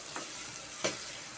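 Spices and ingredients stirred in a pan for chicken tinola in coconut milk, a soft sizzle with two short scraping strokes, one faint and one sharper near the end, close by and without talk.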